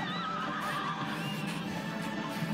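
A horse in the Cuphead video game neighs in a loud, wavering whinny that falls away over about two seconds, with game music and sound effects behind it.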